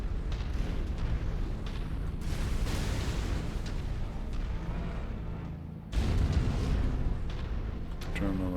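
A bridge collapsing in an explosion in the MechWarrior 5 video game, a deep rumbling blast with a long rolling tail and a second low boom near the end.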